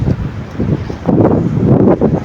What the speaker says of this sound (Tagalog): mahangin ngayon dito